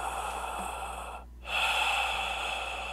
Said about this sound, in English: I hate breathing on the track.